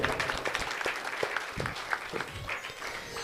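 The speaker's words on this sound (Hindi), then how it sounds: "हम लोग ताली बजा करके एक बार सभी का स्वागत करें।" Audience at a Ram Navami Ramkatha gathering claps in welcome, dense continuous applause with sharp individual claps standing out.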